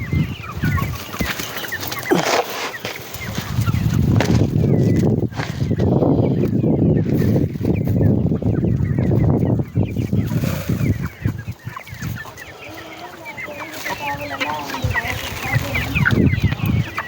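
Asil cross chickens clucking and squawking loudly nearby, overlapping calls from several birds, with people talking intermittently in the background.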